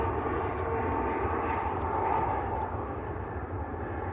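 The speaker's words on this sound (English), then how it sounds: "So that's EasyJet to Hurghada, just lifting off." An EasyJet jet lifts off from Manchester Airport bound for Hurghada, a fairly faint, distant engine rumble that swells slightly and then eases.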